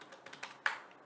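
A short burst of typing on a computer keyboard, about half a dozen crisp, close key clicks in quick succession, the last one a bit louder.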